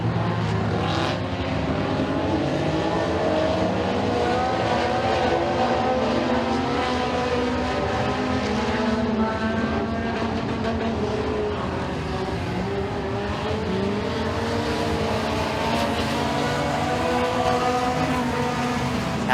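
Race cars roaring continuously around Eriez Speedway during a heat race, a loud, dense engine drone from several cars at once with no voices over it.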